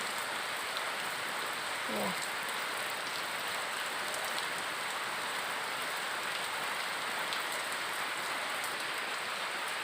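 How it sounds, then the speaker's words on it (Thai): Steady rain from a storm falls in a constant, even hiss, close by and without pause, with a brief faint chirp near the start. "ฝนก็เริ่มเบาลงแล้ว"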